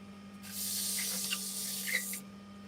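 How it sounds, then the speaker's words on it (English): Worn sandpaper rubbed by hand across wood gives a steady, close, hissing scrape lasting nearly two seconds, with a few faint knocks near the end, and a low constant hum runs underneath. "Apparently, I need some new sandpaper. This stuff's worn out pretty good."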